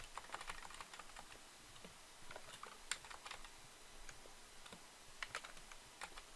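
Fingers tap on a computer keyboard, a quiet scatter of light clicks in short irregular bursts, fairly faint and close, with no speech.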